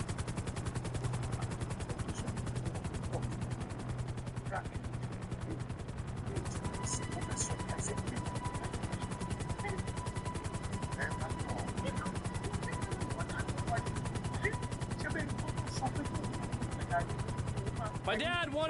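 Helicopter in GTA flying with a steady, loud rotor chop and engine drone throughout, mixed with game sound effects and occasional bursts, no talking.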